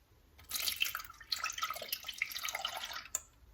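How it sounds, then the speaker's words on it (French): A cup of milk poured into a food processor while mixing a chocolate cake batter: a faint, steady liquid trickle with small splashes, running for about three seconds at low volume with no voices. "on va verser une tasse de lait"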